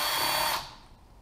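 A power tool spinning on cylinder head bolts of a Honda CBX engine: a steady high whir that winds down sharply after half a second, leaving quiet workshop background.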